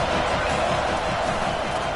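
A stadium crowd at a college football game between Florida and Texas roars in a dense, continuous wash of noise, loud and unbroken throughout.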